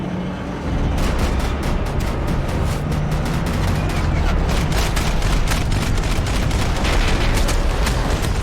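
Rapid gunfire in Max Payne 3, a dense, loud fusillade of repeated sharp shots and booms that runs continuously for several seconds.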